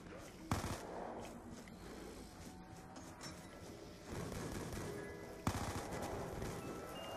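MP5 submachine gun fire in Black Ops 2 Zombies on the Farm map, with sharp close bursts standing out above a dense, noisy game mix of continuous action sounds.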